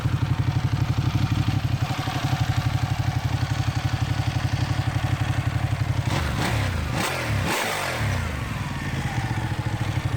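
A Ducati 899 Panigale motorcycle engine idling with a loud, close, rapid throbbing pulse. It blips briefly in a couple of quick revs, then settles back to a steady idle.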